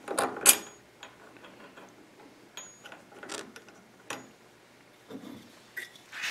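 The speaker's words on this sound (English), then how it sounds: "I'm setting the jaws of the vise just so the 3/8 bolt will fit closely in there." A metal bench vise having its jaws adjusted to fit a 3/8 bolt, giving scattered light mechanical clicks and ratcheting ticks at close range, with quiet pauses between them.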